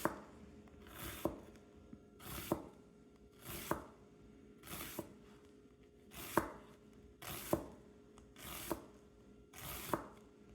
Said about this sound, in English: then we're going to cut it from the end of the onion inwards.